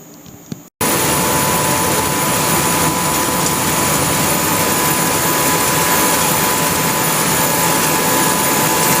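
A laser engraver with an exhaust blower and a water chiller rasters a design into wood, giving a loud, steady, unbroken machine roar with a high whine that starts abruptly after a brief quiet moment and runs without pause.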